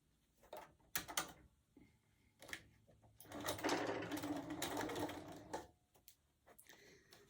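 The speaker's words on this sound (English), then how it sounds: "line up our raw edges, and sew a 1/4 inch." Sewing machine stitching a quarter-inch seam joining red and white fabric for a quilted gift basket, a steady mechanical whirring burst lasting a couple of seconds, framed by fabric handling and clicks, close and alone.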